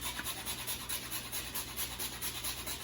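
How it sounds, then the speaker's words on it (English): Whole nutmeg is grated by hand for a Jamaican sweet potato pudding, making a steady, quiet rasping scrape repeated in quick even strokes. "So we're gonna grate the nutmeg."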